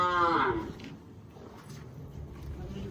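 A cow moos once, a loud, close, low drawn-out call at the very start, then background talk and outdoor rustling follow at a village gathering.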